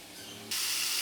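Moringa drumstick pods sauté in hot oil with a little salt in a pan, a soft sizzle that suddenly swells into a loud, bright, steady hiss halfway through.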